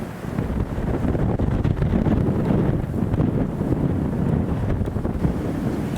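Strong gusting wind during a wildfire in Portugal roars steadily across the microphone, a loud, continuous buffeting rush with no break and no voices.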